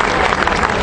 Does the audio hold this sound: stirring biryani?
no